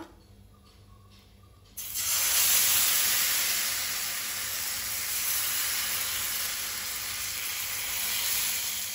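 Rava dosa batter spread onto an oiled hot tawa over a medium gas flame bursts into loud, steady sizzling after a short quiet start, holding a dense crackling hiss to the end.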